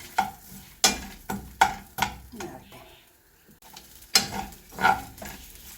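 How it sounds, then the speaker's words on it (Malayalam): Grated coconut sautéed in a pan, with loud rhythmic scraping strokes of a spoon against the pan, several sharp bursts separated by a brief pause, over a soft sizzle. "തേങ്ങ നല്ലോണം ചോക്ക വെന്ത് വരണം."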